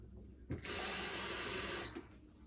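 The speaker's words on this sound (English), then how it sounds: "And then we're going to put just a little bit of water in here." Water poured into a saucepan of fresh cranberries for cranberry sauce: a steady, close splashing stream lasting about a second and a half, framed by quiet kitchen room tone.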